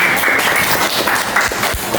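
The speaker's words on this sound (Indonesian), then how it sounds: "Kembali tepuk tangan untuk kelompok 5." Students in a classroom give a round of applause for group 5: a brief, steady patter of many hands clapping, fairly loud and close.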